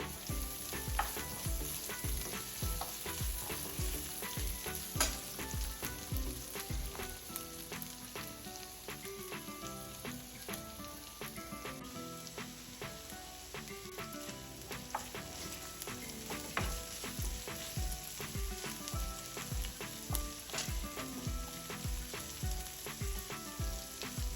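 Ginger sautéing in a pan for a chicken and bok choy stir fry, a steady close sizzle and crackle running continuously, with frequent stirring scrapes and clicks of the utensil throughout.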